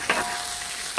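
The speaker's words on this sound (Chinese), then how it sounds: "加入适量清水，再把豆腐倒下去。 轻轻的搅动一下，给它散开" Tofu being stirred in a wok of chili oil and water, a steady close sizzle with a brief scrape of the spatula near the start, no talking.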